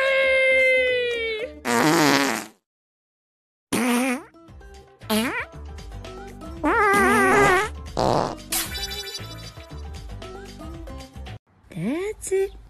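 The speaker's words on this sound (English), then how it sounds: "Never hold back your farts" Cartoon fart noises from an animated comedy, several loud bursts of varied length with musical score and effects between them, and a short gap of silence partway through.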